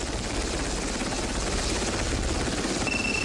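A helicopter flies close by a naval destroyer, its rotor and engine making a loud, steady, dense roar that holds without letup throughout.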